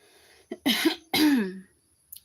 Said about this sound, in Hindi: मुझे ना खांसी आ रही है, बहुत बुरा लग रहा है।